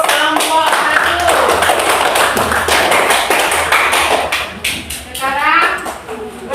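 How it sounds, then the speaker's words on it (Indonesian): A classroom claps for a student group, with rapid rhythmic clapping close by mixed with voices and cheering, loud and continuous throughout. "Tepuk tangan untuk kelompok 1."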